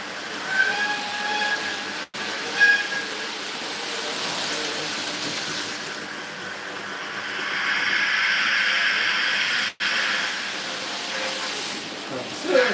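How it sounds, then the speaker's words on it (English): A J15 steam locomotive, likely a model, hauls Mid-Suffolk Light Railway wagons with a steady running rumble and a faint whistle-like tone, swelling louder midway, with two brief dropouts. "That's the J15 running with mid-Suffolk light railway wagons from my part of the world."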